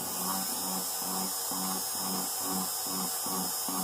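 A rotary tool cuts fire agate stone at a slow 6,000–7,000 RPM with light pressure, giving a steady whining grind broken into regular pulses, roughly two or three per second, close to the microphone.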